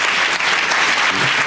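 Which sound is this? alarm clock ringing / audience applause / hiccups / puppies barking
audience applause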